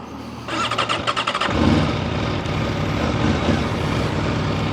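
A 2026 Aprilia RSV4 Factory sport bike, already warm, fires up with a short clattering starter burst and then settles into a loud, close, rumbling idle that holds steady.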